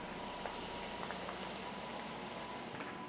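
Fries frying in hot oil on a propane grill, a steady close bubbling sizzle with faint crackles throughout.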